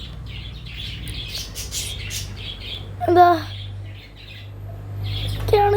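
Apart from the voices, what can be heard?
small pet birds chirping, including a yellow bird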